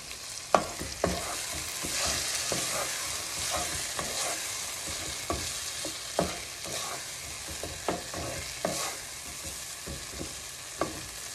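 Tomato fries in a pan with a spice mix, giving a steady bright sizzle broken by a dozen or so sharp scraping stirs of a spoon against the pan at irregular intervals, close and moderately loud with no voices.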